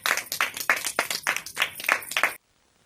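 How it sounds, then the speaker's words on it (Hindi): Loud, close clapping from a small crowd at an Independence Day school celebration, greeting a children's tableau, with uneven bursts of hand claps that stop abruptly into silence. "जोरदार तालियों के साथ उनका स्वागत करेंगे"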